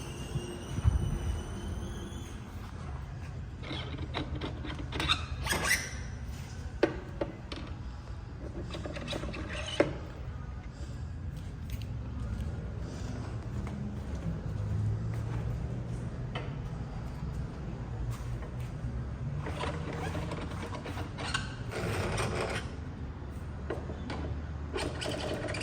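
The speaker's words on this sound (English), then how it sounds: "So we lower the vehicle for easier adapter removal." A two-post car lift lowering a vehicle in a shop, a steady mechanical hum with ticking and clicking from the lift mechanism, a few sharper clanks early on, moderately close and continuous, with no talking.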